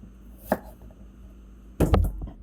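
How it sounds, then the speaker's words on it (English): A knife cuts washed food into quarters on a cutting board. One crisp chop is followed a moment later by a quick cluster of two or three louder thuds, close and clear with no talking. "We're cutting them up in quarters, folks, and these have been thoroughly washed."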